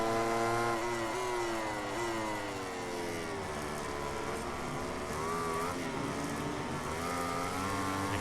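Yamaha motorcycle engine in the MotoGP 18 racing game at Le Mans, a loud continuous high-revving whine with rising and falling pitch sweeps through gear changes, steady and close throughout.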